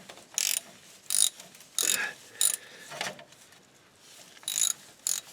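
A ratchet fitted with an 8mm rounded bolt extractor, wobbly universal joint and extender clicks in quick bursts while working a bolt on an F150 transmission, several separate ratcheting runs spaced apart, close and clear with no talk.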